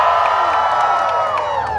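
A crowd of park visitors at Disneyland cheers loudly and continuously, with high whoops and children's shouts layered over a dense, sustained roar that fills the whole clip.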